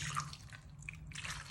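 Canned beef broth poured from the can over potatoes and ranch seasoning in a slow cooker, a short, quiet liquid trickle with a few drips close by.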